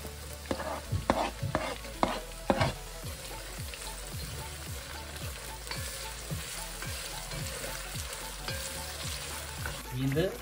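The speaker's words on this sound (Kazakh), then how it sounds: "Енді біз жаңа пиязымызды қуырып алдық" Onions sizzle with meat in a pan while cooking zharkoe, a steady crackling fry broken by repeated scraping stirs of a utensil, close and continuous.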